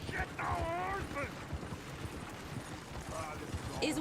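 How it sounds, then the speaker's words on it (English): Horses' hooves clattering in Red Dead Redemption 2, a steady muffled clip-clop running under game noise, with voices talking over it and a loud, busy mix throughout. "Oh, shit, the horses."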